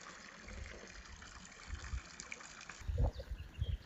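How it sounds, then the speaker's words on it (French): Water trickles and dribbles from a makeshift outdoor shower at a shaded campsite on the GR 58 Tour du Queyras hiking trail. The flow is faint and uneven, with a few louder low gushes near the end. "je vais même pouvoir prendre ma douche"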